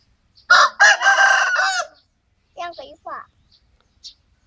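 A rooster crows loudly and close by in one long, strained call, followed by a few short clucks and a faint chirp after a pause.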